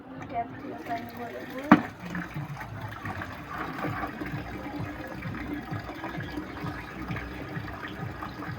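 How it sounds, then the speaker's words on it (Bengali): Plants are watered by hand at home: a soft, continuous splash and trickle of water runs throughout, with a faint voice murmuring underneath. "এখন আমারই দেওয়া লাগবে গাছগুলোতে পানি"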